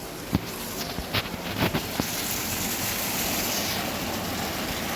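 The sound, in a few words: heavy rain and flowing water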